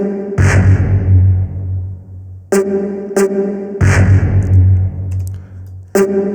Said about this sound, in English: the first thing I started with was this sound, which is like a sort of brass hit from Ultra Beats.